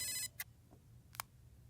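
A phone rings in a brief electronic ringtone burst, then two more short separate chirps follow over quiet background hum; no one speaks.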